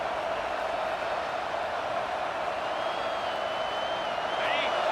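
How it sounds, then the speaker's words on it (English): Football stadium crowd at a Texas vs Arkansas game, a broad steady roar of cheering that holds at a high level and swells slightly toward the end, with faint whistling above it. "this crowd is turning it up a notch"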